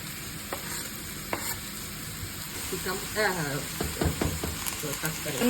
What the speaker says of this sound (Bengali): গাজরটা একটুখানি হালকা ভেজে নিই।